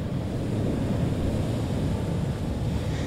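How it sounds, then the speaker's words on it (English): Ocean waves roll and wash in a steady, soft surf roar with light wind noise, continuous and fairly quiet, with no voices. "The waves give off a really soothing sound."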